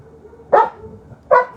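A rescue-shelter dog barks indoors twice, a short sharp bark near the middle followed by another about a second later, close and clear over a quiet room.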